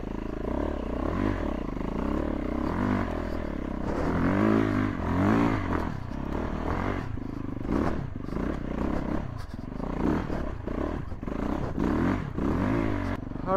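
A Yamaha YZ450F dirt bike engine revs and labors through a hill climb in the rain, its throttle surging up and down with clattering and scraping close by, with no talk.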